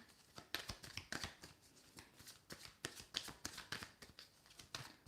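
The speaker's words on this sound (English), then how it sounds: "I'm gonna start shuffling for you." Tarot cards are shuffled by hand in a quiet room, with rapid riffling bursts and soft slaps repeating in an uneven rhythm, close and faint.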